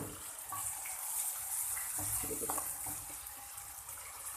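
Water pours in a steady hissing stream into a cooking pot of spices for fish curry, fairly quiet, with faint clinks and splashes in the background.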